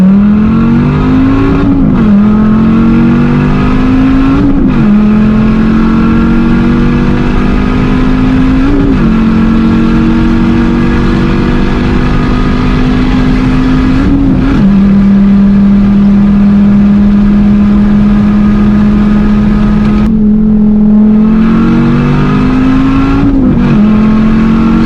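A nitrous-fed Dodge Viper ACR accelerates hard on a highway, its loud engine note climbing in long pulls through several gear changes, each marked by a brief dip before it climbs again, with no talking.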